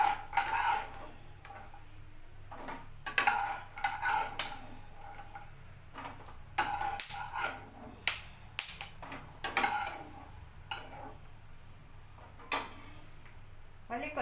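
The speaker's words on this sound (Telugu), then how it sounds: "బాదాం వేగిన తర్వాత ఒక ప్లేట్లో తీసుకోవాలి." Roasted almonds being scooped from a pan onto a plate for a dry-fruit laddu, with scattered metallic clinks and scrapes of a spoon against cookware at an uneven rhythm, fairly close, over a faint background hum.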